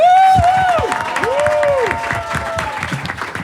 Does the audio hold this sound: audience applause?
yes